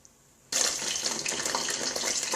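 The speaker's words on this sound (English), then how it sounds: "this is the sound you're gonna get, because there's water from the covering that's falling into the oil" Water hits hot frying oil while dumplings fry, setting off a sudden loud sizzling crackle that stays dense and steady, close by, with no voices.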